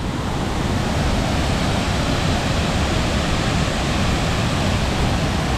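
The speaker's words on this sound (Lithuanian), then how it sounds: "Priėjom tiltuką per Krioklį." Steady, loud rushing of a waterfall flowing beneath a small footbridge on a stony hiking trail near Skarpenor, a dense continuous roar with no let-up and no voices.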